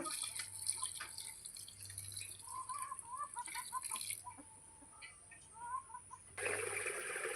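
Liquid fertilizer poured onto a tomato seedling in a small home vegetable garden gives soft drips and trickles, with birds chirping in the background and a louder splash of liquid near the end.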